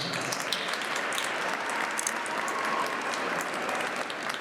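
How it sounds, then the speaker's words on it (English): Sustained crowd clapping at a Black History Month flag raising ceremony, an even, dense round of applause with no gaps and no one speaking over it. "Let's give them another hand of applause."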